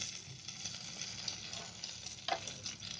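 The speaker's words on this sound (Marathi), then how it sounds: "आपली मच्छी चांगली फ्राय होते" Pieces of fish, including paplet (pomfret), shallow-frying in a pan over low gas, giving a steady soft sizzle throughout with a brief louder crackle near the end; no voices.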